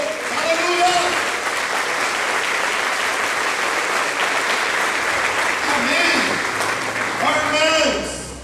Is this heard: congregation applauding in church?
yes